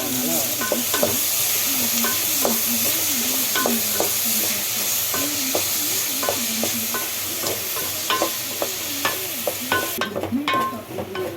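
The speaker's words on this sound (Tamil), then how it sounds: "கல் உப்பு போட்டு வதக்கணும்னா கொஞ்சம் சீக்கிரம் வதங்கும்" Tomatoes sautéing with rock salt in a pan for mutton curry, a strong constant sizzle with rhythmic scraping stirs of a spatula repeating throughout, close and loud.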